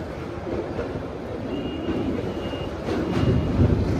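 Steady rumble inside a moving train crossing a bridge over the Prayagraj Maha Kumbh ghats, broad and continuous, swelling slightly louder toward the end, with a faint tonal squeal in the middle.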